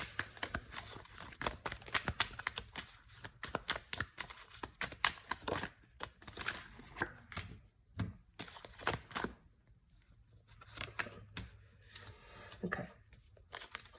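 Tarot cards are shuffled in quick bursts of riffling, flapping and tapping, close by, with brief pauses between runs and no talking.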